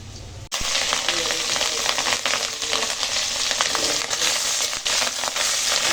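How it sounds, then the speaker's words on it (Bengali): Fish roe frying in a pan in a home kitchen, a steady loud sizzle and crackle that runs throughout with faint talk underneath. "এখন ডিমটা ভালো করে ভেজে নেব"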